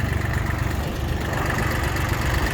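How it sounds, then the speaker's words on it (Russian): An Iseki TU160 Japanese three-cylinder compact tractor with a rotary tiller idles close by, giving a steady, even engine rumble with no talk. "Такой тракторец, напомню, это Исеки у нас"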